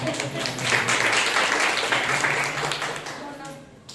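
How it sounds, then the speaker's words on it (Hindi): Applause from a congregation at a Sunday morning church service, a steady broadband clatter of many hands sustained for several seconds before tapering off, fairly close. "सोनू जी के लिए जोरदार तालियां।"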